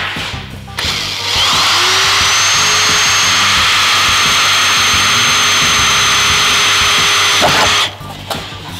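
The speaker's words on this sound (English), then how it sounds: "I'm going to drill now on the marks that we made earlier." A power drill whirs steadily for several seconds, starting and stopping with brief clicks and handling noises at each end.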